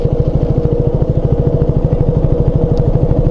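A KTM 200 Duke single-cylinder motorcycle rides through town with a steady, loud, rapid engine thrum. The pulsing beat is close and even throughout, with no voices.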